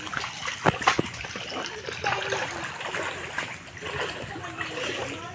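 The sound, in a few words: water splashing while bathing a pet at the sea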